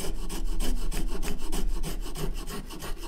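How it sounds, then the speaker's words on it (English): Hand-held razor file rasping along a wooden guitar neck during hand shaping, giving a steady run of quick, close, back-and-forth scraping strokes that repeat in an even rhythm with no talking. "Switching over to the razor file allows me to get a finer, more controlled cut here."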